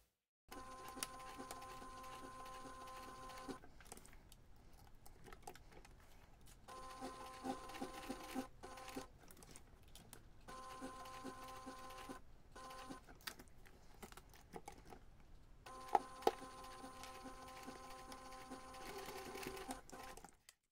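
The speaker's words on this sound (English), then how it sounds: "you can take this to the machine, stitch a little box to anchor that end" A sewing machine stitches a box on a DIY backpack strap, running in steady whirring bursts with short pauses between them, close and fairly quiet, with a couple of sharp clicks near the end.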